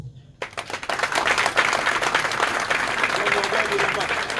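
An audience at a political rally in Gabon breaks into applause, a dense, loud wash of many hands clapping that starts abruptly and carries on strongly, with voices mixed into the crowd noise.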